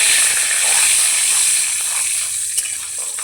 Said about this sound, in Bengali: হিং দিয়ে দিচ্ছি, একটা তেজপাতা, 2 শুকনো লঙ্কা, 2 সেকেন্ডের মতো নাড়াচাড়া করে নেব।